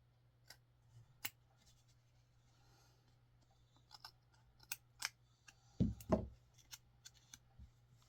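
Scissors snip paper for a Halloween paper-piecing craft, a handful of sharp, separate cuts and small rustles spaced unevenly against a quiet room hum, close to the microphone.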